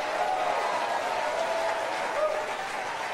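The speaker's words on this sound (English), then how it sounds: "Clap your hands, all you citizens." A church congregation claps along during worship, a dense, steady patter of many hands mixed with crowd noise and faint voices.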